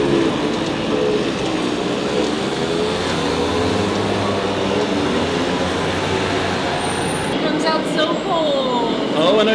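Steady interior rumble of a moving train in Tokyo, a continuous low drone with rattling and a brief high squeal near the end, close and constant throughout with faint voices.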